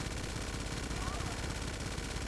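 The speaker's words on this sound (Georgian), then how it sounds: "სროლა შეიძლება." Rapid automatic gunfire from shooting in the video game GTA 5 rattles on without a break, dense and steady under the game's other noise.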